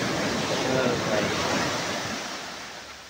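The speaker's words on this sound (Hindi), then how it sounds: "ये है समुद्र की लहरें" Sea waves wash up onto a sandy beach at Somnath, a broad hissing surge of surf that swells and then slowly recedes, close and fairly loud with wind noise and no speech.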